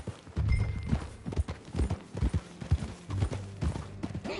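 Horse hooves clip-clop in an uneven, galloping rhythm while riding in Red Dead Redemption 2, close and fairly loud, with no talk over them.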